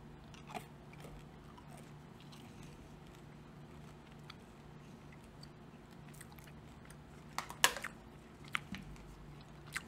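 Faint, close chewing of Trident Vibes Sour gum, with soft wet mouth noises and occasional small crunchy clicks against a quiet background.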